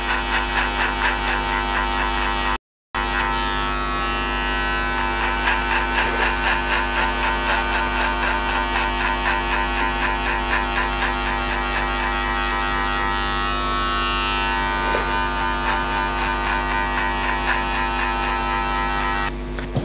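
Continuous loud buzzing hum of electric hair clippers with a number 2 metal guard running close by for the whole stretch, with a brief cut-out near the start and no speech.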